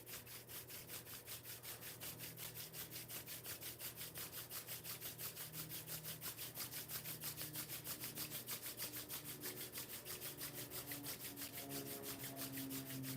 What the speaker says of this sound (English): And now rub the remaining oil in the hands.